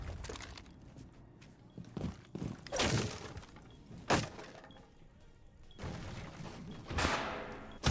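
Gunfire and sharp impacts ring out in a Rainbow Six Siege match during a live tournament, with several separate bursts and cracks spread across quiet stretches of game ambience.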